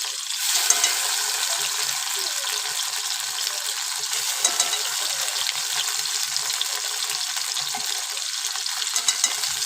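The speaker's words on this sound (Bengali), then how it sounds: "আদাটা দিয়ে খুব ভালো করে ভেজে নিয়েছি।" Ginger paste fries in hot oil with spices, giving a continuous, even hiss and crackle that stays close and steady throughout with small spattering pops.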